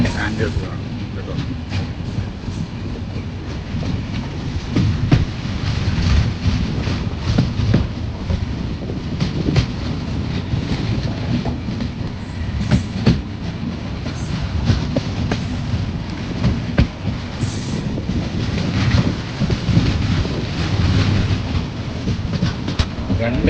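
A freight train hauling petrol, diesel and other flammable cargo behind two engines rumbles past near Aluva railway station, a loud, steady rolling roar with rattling wagons throughout.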